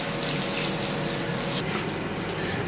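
Turmeric sizzling hard in a hot pan, a steady bright hiss and crackle close up that eases slightly partway through.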